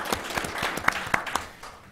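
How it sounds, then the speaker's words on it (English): A school audience claps for a high school civics team, a loose scatter of distinct individual hand claps for about two seconds, moderately loud and thinning toward the end. "Let's get them a round of applause."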